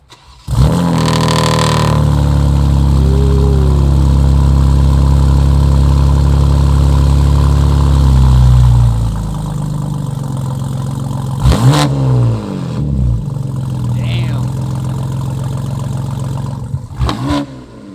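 A modified 700 horsepower BMW M2 engine cranks and fires up, settles into a loud rumbling idle, then gets blipped in a few sharp revs that climb and fall back, recorded up close without talk.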